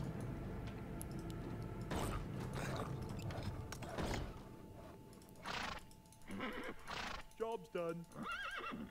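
Horses neigh and whinny in the EO Origins RPG video game, several loud close calls near the end, with clip-clopping hooves and mechanical clicks beneath.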